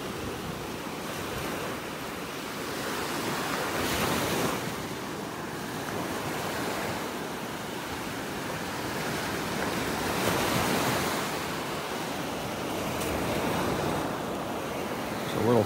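Surf rolls steadily onto a Florida beach in North Naples, a continuous wash of breaking waves with gentle swells in loudness and light wind buffeting the microphone, no voices.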